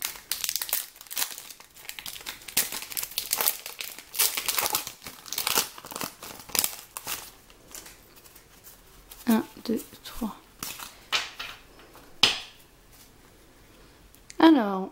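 Crinkling plastic of a Pokémon card booster pack wrapper being worked at and torn open, close up, in repeated bursts of crackle and rip with a voice speaking briefly near the end.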